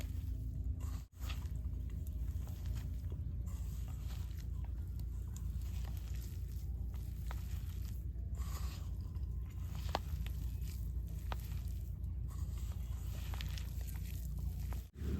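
A raw jackfruit fritter mixture with turmeric is kneaded and rubbed by hand without water, giving a continuous soft squishing and rubbing close by.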